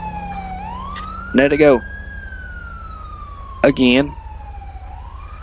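An ambulance siren in the police game LSPDFR wails in a slow rising and falling sweep, loud and steady throughout, while someone speaks briefly twice over it.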